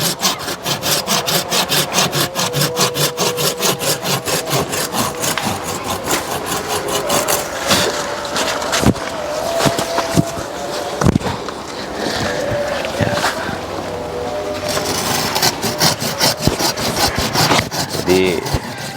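Steady, continuous sawing through a super-jumbo Indian waru tree being cut down as bonsai material, with dense rasping strokes that run the whole time at close range and a few sharper knocks along the way.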